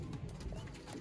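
A Sialkoti pigeon gives a brief, soft, low coo, faint and close, lasting about a second.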